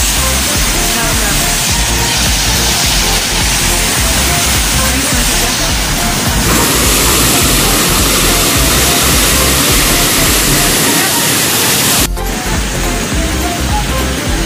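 Tagnoty Falls pours with a loud, continuous broadband roar of rushing water and spray, filling the whole stretch without a break.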